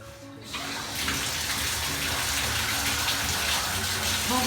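Water gushes steadily from a toilet or bidet nozzle in a home bathroom, starting abruptly after a brief moment and running as a constant hiss through to the end.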